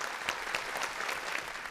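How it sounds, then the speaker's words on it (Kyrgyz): Audience applause welcoming the jury chairman at a televised intellectual quiz show, a steady, dense burst of many hands clapping throughout, moderately loud with no talk over it. "дүркүрөгөн кол чабуулар менен агайды ордуна чакырабыз"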